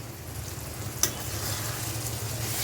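Hot oil crackles and spatters in a frying pan as a steady, close sizzle with a low background hum, broken once by a sharp pop partway through.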